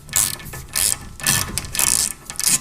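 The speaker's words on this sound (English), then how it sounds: "You just have to loosen the nut on the bottom." A wrench loosens the nut on the bottom of a car's tie rod, likely a BMW E46, giving five close bursts of rapid ratchet clicking separated by short pauses, with no talking.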